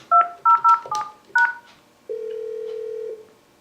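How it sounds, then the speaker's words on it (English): A Yealink T27G desk phone plays a quick series of crisp DTMF keypad tones as a number is dialed, followed by a sustained single tone, close and clear with no talking. "dial the person you want to join that call"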